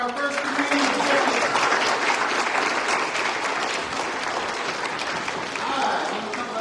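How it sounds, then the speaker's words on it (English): A church crowd applauds First Communion recipients with loud, steady clapping that lasts the whole span, with some voices mixed in. "Let's give a round of applause for our First Communion recipients."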